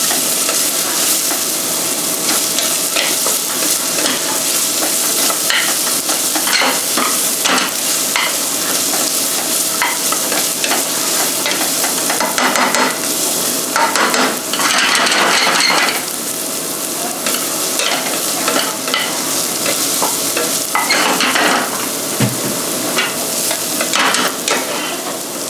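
Onions sauté in a hot pan for a striped bass curry, a loud, continuous sizzle broken by frequent scraping and stirring.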